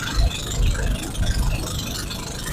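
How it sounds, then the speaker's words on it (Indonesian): Engine of a catamaran raft ferrying motorbikes across Teluk Bele, a steady low rumbling drone with slight rattle, continuous and fairly close, no voices. "Ini katamaran yang sedang mengangkut motor darat"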